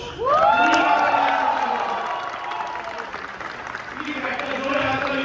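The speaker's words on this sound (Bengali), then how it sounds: "একটা জোরে হাততালি দেওয়ার জন্য" An audience claps loudly at an event, with cheering and a few whoops mixed in. The applause holds steady while voices carry over the top, easing slightly midway before swelling again.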